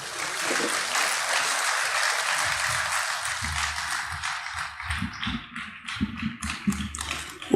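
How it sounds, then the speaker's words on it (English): Audience applause at a Ghanaian public event honouring Chief of Staff Julius Debrah: dense, steady clapping fills the first few seconds, then thins into scattered claps and louder individual bursts toward the end, with no talk over it. "Let's give him a huge round of applause."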